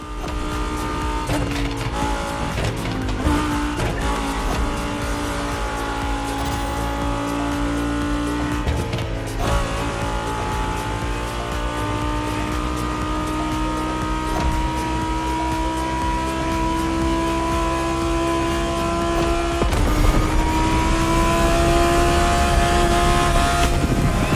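A Lamborghini Egoista accelerates hard in The Crew Motorfest, its loud engine note climbing steadily through the gears with brief dips at each shift, the roar held up close and continuous with no talking.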